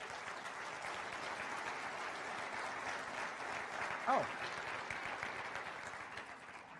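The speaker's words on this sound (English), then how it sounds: "So Mary Kay, you deserve a nice round of applause." Steady crowd applause fills a county government State of the County address in Dutchess County, 2015, with sustained clapping throughout and a brief voice cutting through near the end.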